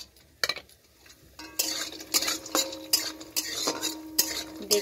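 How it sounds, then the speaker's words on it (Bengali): Lentil dumplings (bori) fry in a pan as a utensil scrapes and clinks against the metal in repeated stirring strokes over a soft sizzle, close up. "বড়িটাকে ভেজে নিচ্ছি।"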